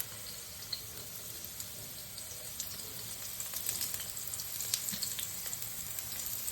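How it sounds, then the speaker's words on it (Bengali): Eggplant slices frying in oil with black cumin seeds in a wok, a continuous soft sizzle with scattered crackles and pops that grow slightly busier toward the end, close and fairly quiet, no talking. "এবার বেগুনগুলো বসিয়ে দেবো।"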